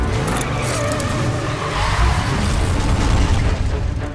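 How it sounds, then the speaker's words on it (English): BMW car racing through a movie stunt chase, a dense, loud engine roar with rumbling low end and rushing noise, continuous throughout without speech. "Driving a BMW while handcuffed."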